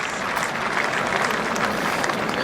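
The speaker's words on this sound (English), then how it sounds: "He's getting a warm round of applause wherever he's disappeared to." A cricket crowd at an England v West Indies Test applauds a bowler with a sustained, even round of clapping that fills the ground steadily throughout.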